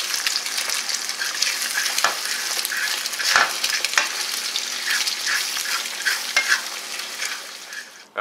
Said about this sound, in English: eggs straight into the grease of the bacon